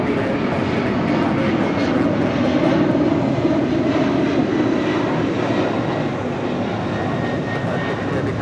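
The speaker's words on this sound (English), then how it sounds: "562 departing to JFK on a 767-300ER" Delta Boeing 767-300ER departing Los Angeles International Airport for JFK, producing loud continuous jet engine roar with heavy low rumble that stays strong and even throughout.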